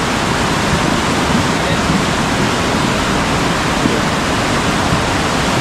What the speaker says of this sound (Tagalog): Palakas na palakas yung tubig.